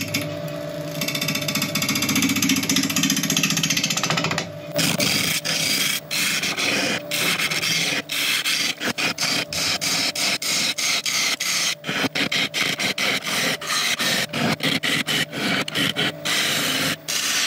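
A black locust workpiece is hollowed out on a wood lathe, giving a steady, loud scraping and rasping with rapid ratcheting ticks throughout, with no talking.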